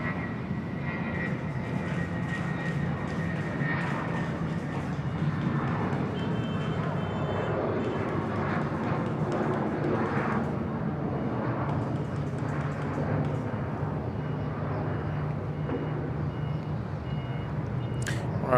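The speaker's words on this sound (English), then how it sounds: "Thai smile here coming down runway right." A Thai Smile airliner rolls down the runway at Bangkok's Suvarnabhumi Airport, its steady jet engine roar filling the clip from start to finish with broadband rumble and whine, fairly loud and constant.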